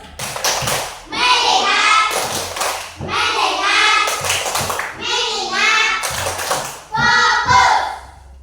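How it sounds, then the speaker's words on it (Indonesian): A class of fourth-grade children in an Indonesian primary school performs a rhythmic patterned clapping routine, with bursts of sharp claps and thumps in short phrases, mixed with children's voices chanting along and a teacher leading. "Tepuk fokus."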